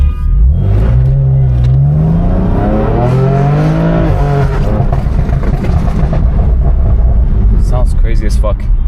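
BMW M4 with a stage 2+ tune, engine revving up and down loudly from inside the car with sharp exhaust pops and crackles near the end, while a voice talks over it.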